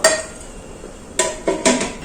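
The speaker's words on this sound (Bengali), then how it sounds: "এরপর ঢাকা দিয়ে দেবো" A lid is set onto a cooking pot of paneer khichuri with fried mung dal: a sharp metallic clank at the start, then three more quick clattering knocks close together near the end, with quiet between.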